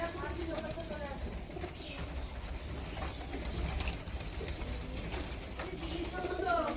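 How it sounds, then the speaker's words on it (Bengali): A flock of pigeons coos softly and continuously at a home feeding spot, a low, gentle murmur that runs the whole time, mixed with faint background voices and household noise. "এত পায়রা কোথার থেকে আসছে?"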